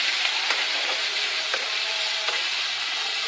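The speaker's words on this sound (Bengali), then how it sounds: "এবারে পেঁয়াজটাকে ভেজে নিব।" Onion pieces fry in hot oil with cumin and white cardamom for a shrimp and kohlrabi curry, giving a steady close sizzle with a few soft stirring clinks and no voices.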